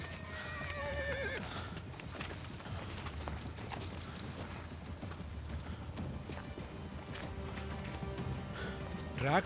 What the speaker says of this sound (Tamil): குதிரை கிடைச்சிருக்கு.